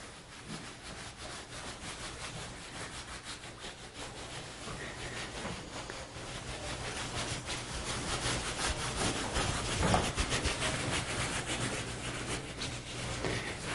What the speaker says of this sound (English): For shoulder mobility, you're going to scrub your rib cage.